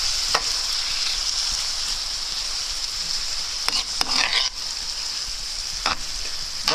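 Tomato paste being stirred into borscht gives a steady bubbling sizzle from the pot, with a few brief scraping stirs over a constant hiss, close up and without speech.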